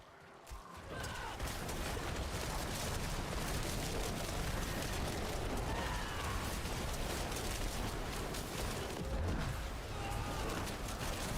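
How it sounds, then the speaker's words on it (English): Bone Spear blood explosions in Diablo 4 with echoing effects, a dense continuous roar of overlapping blasts and booms with steady loudness throughout, no clear gaps. "Or you mean these bloody explosions there? Ah, you mean these echoes. That's from the Deathless Visage helmet."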